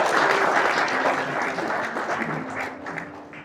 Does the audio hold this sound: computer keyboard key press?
no